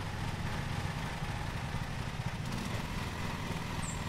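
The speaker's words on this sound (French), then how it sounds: "on dirait que le bruit du tracteur augmente" A riding lawn mower engine drones in the game Lawn Mowing Simulator, a steady, continuous mid-pitched motor hum with a rough low rumble, unchanging throughout and with no voice over it.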